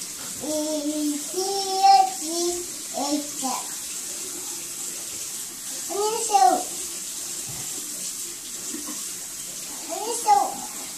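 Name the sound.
child washing hands under running tap water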